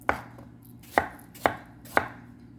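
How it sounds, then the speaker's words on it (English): A knife chops apples into small chunks for a French apple pie, landing four sharp, close knocks on the board at a steady, unhurried pace over a faint background hum. "just gotta cut them up little bit."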